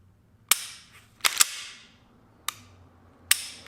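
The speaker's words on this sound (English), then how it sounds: "I'm gonna take 3-shot burst groups, like 1, 2, 3, rest, 1, 2, 3, rest." Smith & Wesson M&P 2.0 pistol with a flat trigger fires five sharp, loud shots at uneven intervals, including a quick pair, each cracking out alone against a quiet background.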